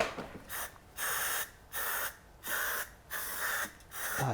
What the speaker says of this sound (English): I'm going to spray it like we did before with the spray adhesive